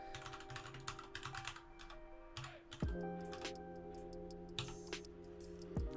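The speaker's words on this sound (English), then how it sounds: "you're about to watch me manually typing out what's screen capped in a YouTube video" Steady typing on a computer keyboard during indie game coding, with rapid irregular key clicks in bursts over a faint electronic hum and a few sliding tones, close and moderately quiet.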